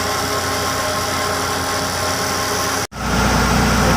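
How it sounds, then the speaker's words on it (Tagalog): A jumbo drill runs at a twin-tunnel road construction site, giving a steady, loud, dense machine drone. Partway through it cuts off abruptly, then resumes with a deeper, heavier rumble. "Pero sa ngayon nag-umpisa na ang drill."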